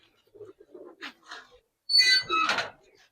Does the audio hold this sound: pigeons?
yes